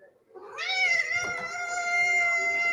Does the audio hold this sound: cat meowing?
yes